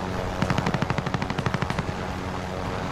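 Gunfire in Call of Duty: Modern Warfare Plunder: a rapid, evenly spaced burst of about twenty automatic shots, loud and close, then a fading rumble.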